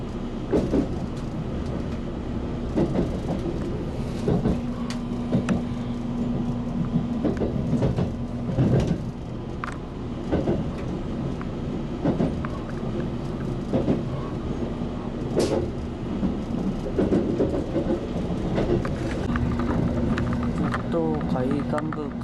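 A train runs through Kiyama-area...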